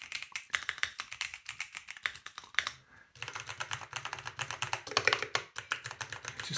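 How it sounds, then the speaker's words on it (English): Fast typing on a Keychron mechanical keyboard with brown switches gives close, crisp clacking keystrokes in quick irregular bursts. A brief pause comes near the middle before the rapid tapping resumes. "In terms of how it sounds, they've both got brown switches on there."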